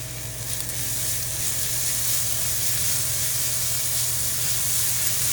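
Chili powder and turmeric sizzle in hot oil for an egg masala fry curry, a steady close hiss running unbroken through the whole stretch with no voices.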